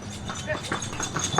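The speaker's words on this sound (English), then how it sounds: "Another form of transport which you may have just seen go past me is horse and cart." A horse-drawn cart clip-clops past on an island street in Gili Trawangan, Indonesia, with a quick run of hoof taps close by under a person talking.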